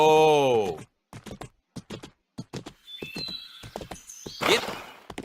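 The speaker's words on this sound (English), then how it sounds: "I could sit and listen to a horse run all day long." A Minecraft horse gives a harmonic whinny, then its hooves clatter in a quick, uneven clip-clop rhythm of sharp knocks, with a few soft chirpy tones near the end.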